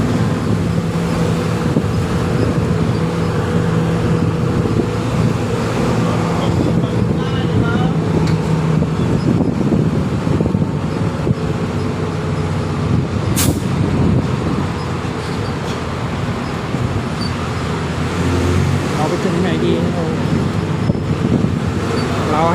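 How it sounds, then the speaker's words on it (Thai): Steady rumbling engine drone from inside a moving red city bus in Bangkok along a canal-side road, continuous and fairly loud, with road noise and wind rushing throughout. "เสียงเครื่องยนต์เสียงรถเมล์เสียงกระเป๋า"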